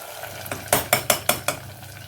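Spoon stirring cauliflower kheema in a pan: a quick series of five or six close scraping strokes in a steady rhythm over a low background.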